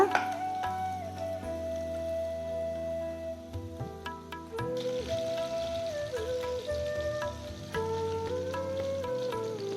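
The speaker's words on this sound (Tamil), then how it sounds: "இந்த இஞ்சி பூண்டு, பட்டை, கிராம்பு, சோம்பு அனைத்தையும் நல்லா வதக்கிடலாங்க" Ginger, garlic, cinnamon, cloves and fennel sautéing in a pan give a steady close sizzle and crackle, with a tonal musical background running throughout.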